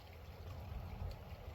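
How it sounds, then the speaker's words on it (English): A creek flows steadily nearby, a faint continuous wash of running water with no voices. "listening to the sound of the creek, is already soothing my nervous system"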